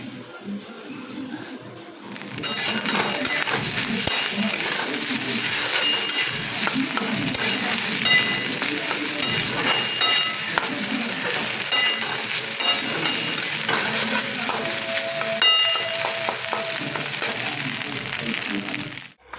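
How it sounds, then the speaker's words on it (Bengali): Rice with potato and pointed gourd fries in a pan at a home kitchen, giving a steady, close sizzle and crackle that runs for the whole clip, with scraping and light utensil clatter now and then. "আলু পটল দিয়ে ভাত ভাজা করে দেবো"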